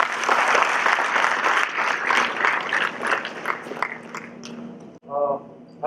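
A large audience at a 2016 foundation programme event breaks into sustained, dense applause that holds steady for several seconds before fading, and a voice speaks briefly at the end.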